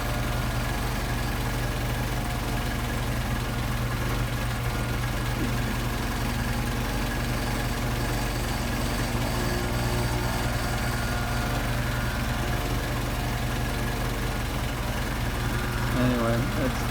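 A Mercedes 190SL engine fitted with Solex 44PHH carburetors idles steadily nearby, a low, even mechanical hum with a faint rhythmic pulse holding for the whole stretch.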